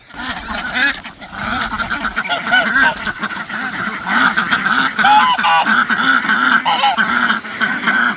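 Farm geese and ducks let out toward a pond give a loud, continuous chorus of overlapping honks and quacks, near and busy throughout, with a person talking faintly underneath.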